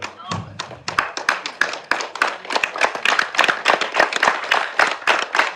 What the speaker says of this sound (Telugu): ఒకసారి నిల్చొని చప్పట్లు కూడా.